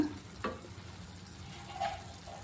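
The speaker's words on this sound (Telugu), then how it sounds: "హల్వా అంతా ఇలా బాగా దగ్గర పడి ప్యాన్ నుంచి సపరేట్ అయ్యే వరకు కలుపుకుంటూ ఉండాలి" Carrot halwa thickens in a pan as it is stirred: a soft, steady sizzle with a few scraping strokes and light clinks of the spoon, close by and fairly quiet.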